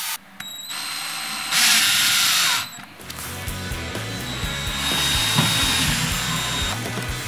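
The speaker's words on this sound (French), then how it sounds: "perce des trous adéquats avec la perceuse" A power drill bores fixing holes for skirting board clips during a cork floor installation, a loud whining burst of about a second followed by lower rattling mechanical work.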